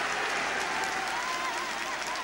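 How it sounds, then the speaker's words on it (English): A football crowd at a 1972 match at Brentford applauds, a broad, steady wash of clapping from a distant stadium audience. "Gilson quite rightly getting a round of applause for taming MacDougall in that particular instance."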